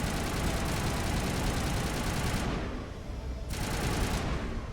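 Dense, continuous gunfire and rocket blasts in the Mass Effect 1 video game's Virmire battle, a loud unbroken roar of combat that dips briefly before surging again.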